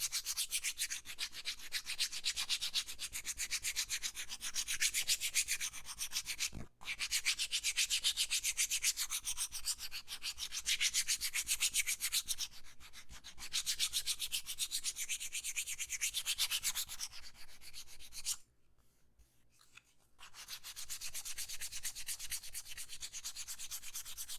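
Sandpaper rubs back and forth along leather edges during burnishing, a steady close scratchy sanding with brief pauses between strokes.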